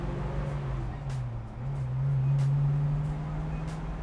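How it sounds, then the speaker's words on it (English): A 1965 Ford Mustang's engine hums low and steady at close range, rising briefly in pitch and loudness as it gains speed while cruising through city streets. "we'll give it a little bit of gas and see what she can do."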